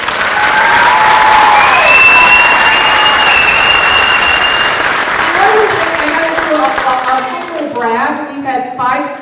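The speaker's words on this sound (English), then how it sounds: "So let's give them a round of applause." A middle school band concert audience claps steadily and loudly, with scattered cheers and whistles, and the applause thins and fades out toward the end.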